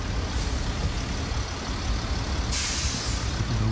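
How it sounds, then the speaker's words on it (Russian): Heavy road traffic crawling past in a long line of cars and buses on a winter road near Rosa Khutor, Sochi, with a steady close engine rumble and a hissing air-brake release from a bus or truck partway through. "Бесконечная вереница машин."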